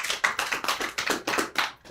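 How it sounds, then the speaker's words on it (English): An audience claps for a co-host at a Kenyan gathering, a brief, steady patter of hand claps lasting about two seconds before fading. "A round of applause for Mr. Okango here"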